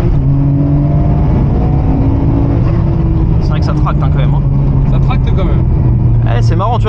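A Nissan Skyline R34 GT-R V Spec engine pulls hard under acceleration, a loud, steady low drone heard from inside the car, with people talking over it.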